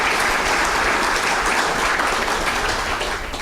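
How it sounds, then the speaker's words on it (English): Guests at a spring awards banquet break into a full, continuous round of applause, loud and steady throughout with no voices over it. "Give them a great round of applause because, folks, they are really something spectacular."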